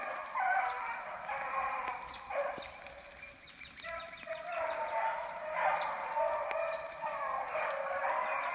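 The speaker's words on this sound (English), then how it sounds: "You hear that high-pitched bark?" Hound dogs bay and howl on a rainy-day rabbit hunt, a steady chorus of high-pitched barks carrying through the damp outdoors for the whole stretch, at a moderate distance with no talking.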